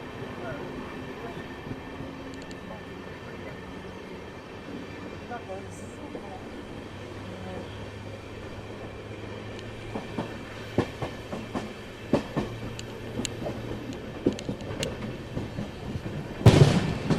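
A passenger train with LHB coaches runs from Tiruchirappalli toward Thiruvananthapuram, heard from inside as a steady low rumble with scattered track clicks and rattles, joined by faint voices.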